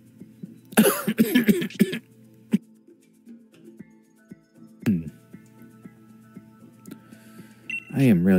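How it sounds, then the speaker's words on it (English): Someone who is sick coughs in a quick harsh cluster, then gives a shorter cough a few seconds later and another rough burst at the end, all close over faint background clinks. "I am really sick of this cough."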